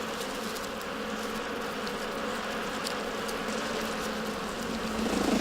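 Bees swarm inside a tree colony in Asia, a dense, continuous buzzing hum that stays steady and close, swelling slightly louder at the very end.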